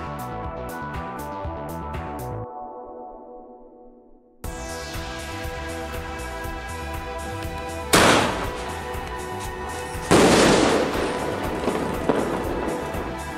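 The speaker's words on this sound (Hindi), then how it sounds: "कितना ऊपर ये जाएगा, क्रैकलिंग कितनी ज़बरदस्त होगी वो तो यार जला के पता लगेगा" A Minion sky shot firework from a Diwali stash goes off outdoors with a sharp burst, then a run of loud close bangs and crackling explosions, with no voices.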